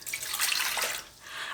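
About 200 ml of lukewarm water is poured from a kettle in a steady, hissing stream lasting under two seconds. It sounds close and alone, with no talk.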